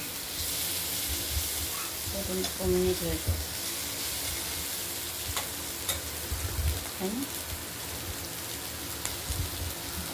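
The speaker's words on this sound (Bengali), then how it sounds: "উচ্ছে কুমড়োগুলো ভাজা হয়ে এসেছে।" Bitter gourd and pumpkin fry in a pan with mustard and green chilli, a steady close sizzle broken by a few stirring scrapes, with a faint voice briefly heard.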